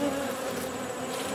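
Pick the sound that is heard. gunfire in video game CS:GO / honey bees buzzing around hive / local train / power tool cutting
honey bees buzzing around hive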